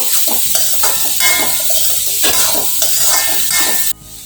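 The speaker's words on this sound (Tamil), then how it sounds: "இப்ப இதையும் சேர்த்து நல்லா வதக்கிக்கலாம்." Small onions sauté with minced mutton keema in a hot pan. A loud, close, hissing sizzle is broken by rhythmic stirring scrapes, then cuts off abruptly near the end, with no voices.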